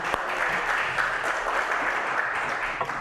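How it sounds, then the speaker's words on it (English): An audience at a talk by Rabbi Paysach Krohn claps in a steady, dense wash of applause that holds evenly for a few seconds, full and fairly close. "Let's give Morty a round of applause."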